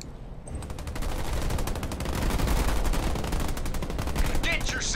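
Rapid gunfire from enemy ground troops in Halo Wars 2 rattles in a dense, sustained stream of machine-gun bursts, loud and close, with a faint voice at the end.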